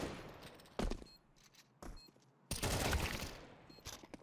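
Sniper rifle shots in Counter-Strike 2, a few sharp separate cracks followed by a heavier sustained burst, loud against quiet game ambience.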